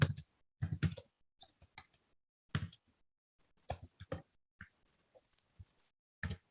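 Typing on a computer keyboard, with irregular bursts of crisp key clicks separated by short pauses, close and quiet, no talking.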